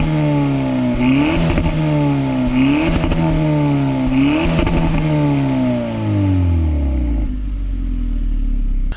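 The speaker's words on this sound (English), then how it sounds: "listen to this exhaust" A 2020 Hyundai Elantra GT N Line, 201 horsepower, revs hard three times in a row, exhaust roaring and crackling, then the pitch falls as it settles back toward idle.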